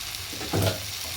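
Cabbage frying in a pan gives a soft, steady sizzle, broken by a single brief scraping stir near the middle.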